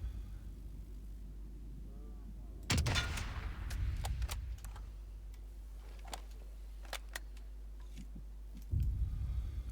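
Gunshots in the video game Sniper Elite: a sharp, loud rifle crack followed by a string of fainter distant pops and ticks, then another sharp shot near the end, with no talking.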